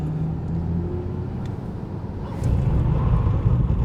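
Audi e-tron GT on winter tires braking hard from 100 km/h to a stop in cold weather, a steady low rumble of road and wind noise that shifts and thickens partway through as the car slows.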